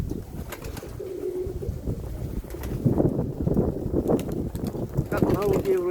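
Pigeons coo in short warbling calls outdoors on a windy summer evening, with wingbeat flutters and gusts of wind, while people talk close by.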